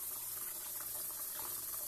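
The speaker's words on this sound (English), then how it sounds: "I'm just going to turn it down and put some water in this pan." Water pours steadily into a pan in a kitchen while making crème brûlée, a continuous soft rushing splash with no talking.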